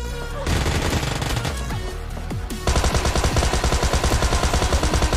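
Rapid gunfire from BGMI Lite, a mobile battle royale game, with rhythmic repeated shots that grow louder and denser partway through over a steady game soundscape.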